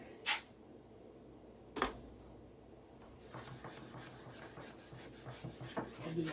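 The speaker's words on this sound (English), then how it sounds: "If you were here, you could hear the sanding tone change." Hand sanding during the rub out of a wood finish: two isolated scrapes, then a run of steady back-and-forth rasping strokes, close and quiet.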